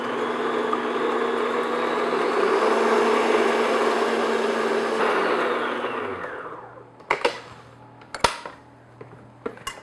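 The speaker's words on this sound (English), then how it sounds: "I'm going to beat these on medium-high speed until they get really thick and very light in color." An electric hand mixer beats eggs on medium-high speed for a dried fruit and nut loaf batter, a steady close whirring drone for about six seconds, then it stops and a few sharp clinks of the beaters against the bowl follow.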